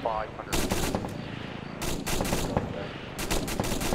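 Bursts of automatic gunfire in the video game ARMA 3, three loud rapid volleys separated by short pauses over a busy battle background.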